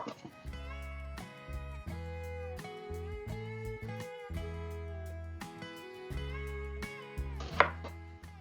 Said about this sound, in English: Now the recipe didn't call for cabbage, but we always add a little bit into ours. We just want to thinly cut it.